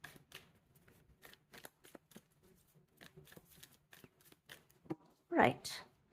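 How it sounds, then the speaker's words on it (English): A deck of tarot cards is shuffled up close in repeated quick riffling bursts, fairly quiet, ending with a louder final flurry. "Two more shuffles."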